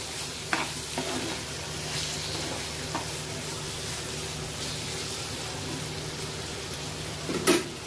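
A prawn and tomato curry simmers in a pan while being stirred, giving a continuous close sizzle with scraping strokes and a sharp clink near the end.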